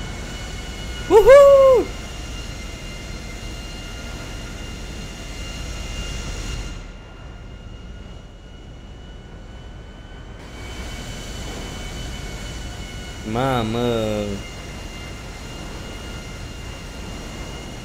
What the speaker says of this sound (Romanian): Mergem cu avionul, boys!